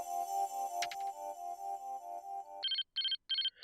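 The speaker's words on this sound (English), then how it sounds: "It's the phone!" A telephone rings in the crime adventure game Again, with electronic ring bursts repeating in a steady pattern after a sustained musical tone. The rings are clear and close, with no talking over them.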